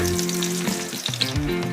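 Garlic sizzles loudly in a pan at the start of a chicken curry, a dense continuous frying hiss with a few small pops and shifts of a utensil, no voices.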